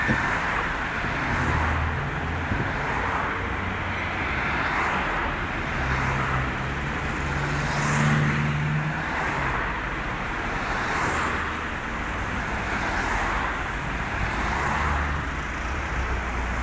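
Car traffic moving along a high street by traffic lights, a continuous rumble of passing vehicles with swells as cars go by, fairly close and steady.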